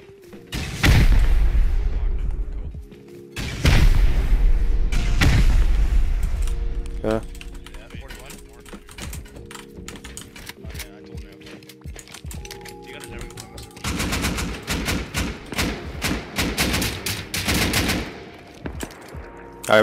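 Rocket explosions during a raid in a survival video game: two big booming blasts early on, then a burst of rapid crackling impacts later, with game ambience between.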